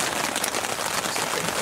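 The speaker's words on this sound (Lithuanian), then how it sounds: "Ir vis markėja tas lietutis" Steady rain falls during a long-distance bike trip from Kiel toward Kelmė, a dense, even hiss of drops hitting surfaces nearby with no pauses.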